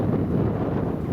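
Wind buffets the microphone on a windy day outdoors, a loud, steady low rumble with no clear gaps, alone and without voices.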